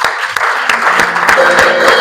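Church congregation clapping together in a worship service, a steady dense wash of applause with a few sharper claps, with voices mixed in.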